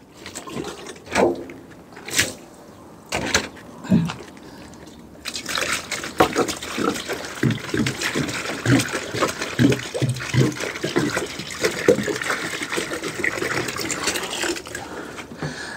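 Fifteen liters of drinking water are poured. A few separate splashes and drips come first, then a steady, gurgling stream of liquid runs on continuously and close up.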